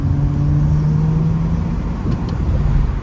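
Acura J-Series V6 engine heard from inside the car while driving, a steady low hum with a faint tonal drone under road noise, quiet and smooth with no voices.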